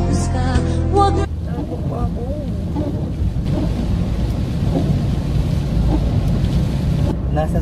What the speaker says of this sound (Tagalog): Grabe yung ulan, oh, tignan niya.